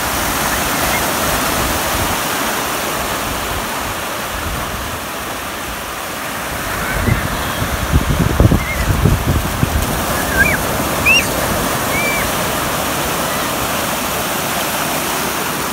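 Ocean surf at Salisbury Beach, New Hampshire, on a fine day: a continuous wash of waves with wind buffeting the microphone, a louder burst of breaking water midway, and faint distant voices.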